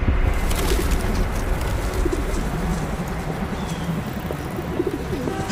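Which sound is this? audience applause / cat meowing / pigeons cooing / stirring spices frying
pigeons cooing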